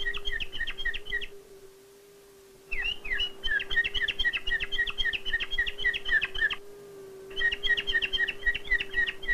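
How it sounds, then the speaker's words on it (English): A small bird sings chirpy, warbling fragments in bursts with pauses between, over a steady low hum. "The bird tries out arrangements of sounds."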